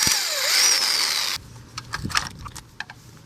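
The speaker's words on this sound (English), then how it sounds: "we're going to remove the 17mm nut that holds the pre-tension" A power tool spins off the 17mm pre-tension nut on a Lexus GS/IS/LS front strut: a loud, steady whirring burst lasting over a second that cuts off abruptly, followed by a few light metallic clinks.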